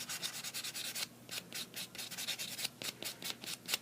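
A nail file lightly buffs across a fingernail during a simple manicure. The soft, rasping strokes repeat steadily and close up, with a brief pause partway through.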